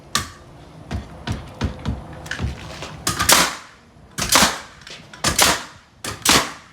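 A nail gun fires into wood framing, a series of sharp, loud pops spaced irregularly, with lighter clicks and knocks between shots and quieter handling in the first seconds.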